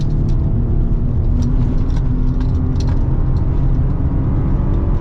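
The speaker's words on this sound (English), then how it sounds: "Now let's see how fast we can get up here." A 2022 Chevy Colorado ZR2 truck accelerates up an off-road trail, its engine a loud, steady low rumble with rough bumps and rattles on top, heard from inside the cab.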